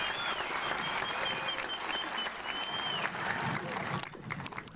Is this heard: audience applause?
yes